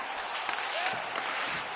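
An arena crowd in the NHL 25 hockey video game cheers and applauds in a steady, washing roar, with a commentator's voice talking over it.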